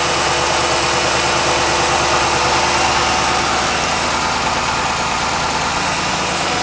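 A 2006 Chrysler 300C SRT8 engine idles steadily right after a battery replacement, a close, constant low rumble with a broad even hiss and no voices throughout.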